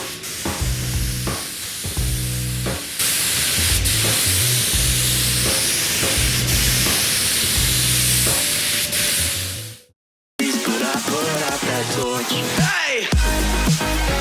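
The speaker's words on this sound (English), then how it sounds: "The spray gun is set for about 35 psi" A steady, loud hissing spray of clear coat from a spray gun at about 35 psi runs almost continuously, broken by a brief silence before the hiss resumes alongside clattering, mechanical sounds.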